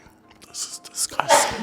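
A single sneeze bursts out near the end, sharp and close, following a quiet stretch of soft mouth noises and a brief spoken remark.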